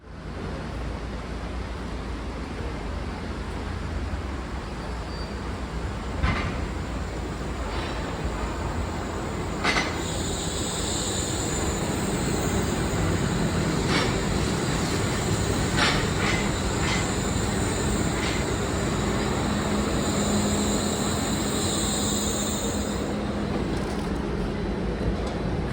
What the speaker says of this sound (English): where the next train was already pulling in